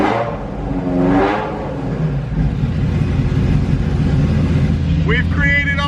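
A Ferrari F355 with a straight-piped exhaust idles loudly close by, with a brief rev swelling near the start and a steady, raspy engine drone after it, while people talk briefly toward the end.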